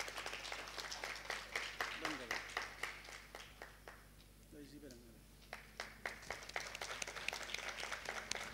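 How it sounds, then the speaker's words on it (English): An audience at an inauguration ceremony claps during the lighting of a ceremonial lamp, a scattered, rhythmic run of hand claps with faint chatter underneath and someone talking briefly midway, fairly quiet and roomy. "A huge round of applause,"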